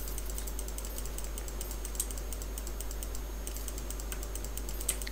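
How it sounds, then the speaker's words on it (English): Rapid repeated mouse or key clicking during play of a shopping simulator game, a steady stream of small crisp clicks over a constant low background hum, with no talking. "I forgot to need to keep clicking."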